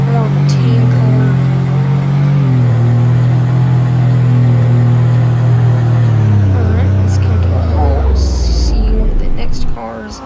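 A Porsche GT3 RS engine in the Roblox driving game roars loudly and steadily, its note dropping in pitch toward the end as it winds down, with a few clicks near the close.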